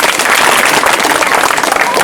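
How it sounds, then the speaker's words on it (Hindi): A school audience at a student programme in Lanji applauds a third-place prize winner with loud, dense, sustained clapping throughout, with no voices over it. "इनके लिए भी जोरदार तालियां"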